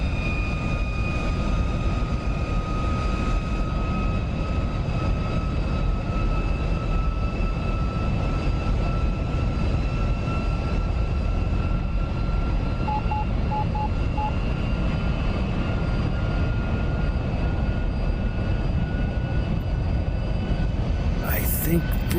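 An SR-71 jet in the DCS flight simulator cruises at about 67,000 feet, giving a steady, loud, unbroken engine drone with thin high tones above it, continuous from start to finish.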